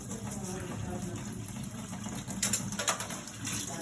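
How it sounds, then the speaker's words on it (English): Running water rinses an autoclave part, with a steady hiss of flow and brief splashy bursts in the middle where the part moves under the stream. "Give that a good rinse."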